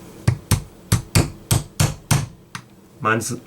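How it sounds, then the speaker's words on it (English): A hammer taps a punch through a pin on a Stevens Savage 320 pump shotgun, eight or so sharp, evenly spaced close metallic strikes followed by a short rattle. "use something to hammer it through with"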